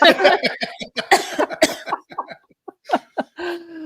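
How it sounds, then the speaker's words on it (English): A rapid run of harsh, close coughs, several bursts in quick succession, tapering off with a few last hacking coughs. "I'm having a coughing fit."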